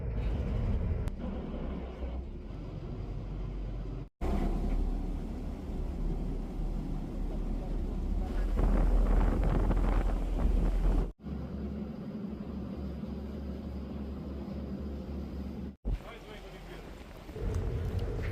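A boat crossing a harbour to pick up ship crews, with a steady engine and water rumble and wind buffeting the microphone, broken by a few brief dropouts.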